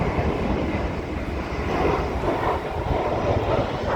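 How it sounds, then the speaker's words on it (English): Airplane passing overhead, a faint, steady broadband engine rumble that holds evenly throughout with no voices. "There's an airplane going by."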